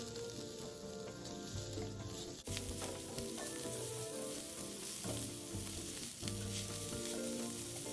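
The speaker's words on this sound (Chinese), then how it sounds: "这时候再将备好的洋葱加入，一起拌炒" Onion is stir-fried in a pan for a bitter gourd omelette, giving a steady, dense sizzle close up with light scraping and stirring throughout and no talking.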